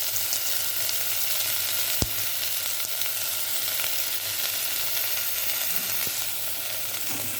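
Tomato pieces and okra fry in a pan for sambar, a steady close sizzle throughout with a sharp clink of a utensil against the pan and soft stirring sounds.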